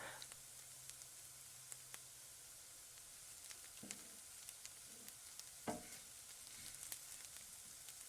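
Food reducing in a pan while cooking eggplant: a soft, steady sizzle with a faint hiss, broken by a few gentle stirring clinks and scrapes, quiet and close.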